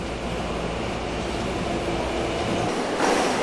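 Subway train running, a loud continuous roar of wheels and carriage noise heard from inside, steady throughout with a slight swell near the end.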